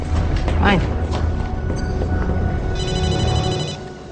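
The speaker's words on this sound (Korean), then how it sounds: "그때 링컨에게 다급한 전화를 받게 되는데요." A telephone rings in a tense dramatic scene from a TV series, a short electronic ring tone sounding over background noise and voices for a few seconds.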